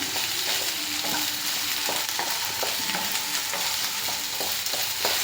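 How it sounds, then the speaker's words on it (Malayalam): Cut potatoes are stirred into a frying vegetable curry, giving a dense steady sizzle with scattered scraping and light clatters of the spoon against the pan, close by and without speech. "ഉരുളക്കിഴങ്ങ് കൂടി ഇട്ടിട്ട് നന്നായിട്ട് യോജിപ്പിച്ചെടുക്കണേ."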